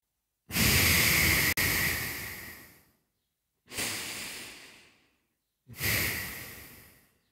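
Three deep, forceful exhalations during a yoga exercise session, each one loud and close with a hissing rush that fades out. Short silent pauses separate them and no one speaks.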